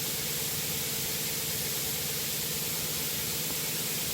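A fogger motor in a mushroom growing shed sprays fine water mist, producing a steady, even hiss with a faint low motor hum underneath, continuous and unchanging throughout.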